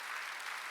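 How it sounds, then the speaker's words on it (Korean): A church congregation at a Wednesday worship service claps together, a brief steady burst of many hands with no pauses. "믿어 박수치라야"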